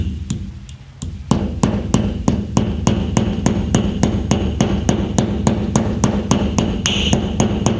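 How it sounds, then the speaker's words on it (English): Hammer tapping a new pump seal into place on a Toro Groundsmaster 322D mower, a steady run of about twenty-five crisp metallic knocks in even rhythm, close and clear with no talking. "work my hammer around it."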